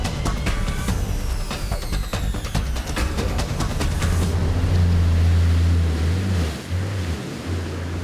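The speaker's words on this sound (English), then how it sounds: "This is one of those creek crossings where there could be anything inside" A 4WD truck crawls slowly through a creek crossing in Cape York, its low engine rumble mixing with continuous sloshing and splashing water and buffeting wind noise, with no voices.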